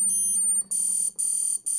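A Garmin Edge 1030 bike alarm going off: loud, high-pitched electronic beeping in three sustained bursts with brief gaps, heard close over a low hum and without any talk.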